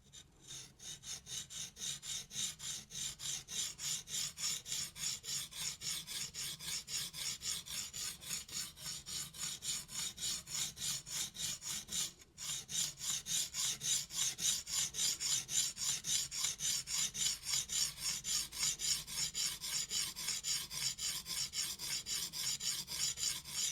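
A knife blade is held at a fixed angle by a clamp and drawn over a sharpening stone. Steady, rhythmic rasping strokes repeat without a break except for one brief pause midway.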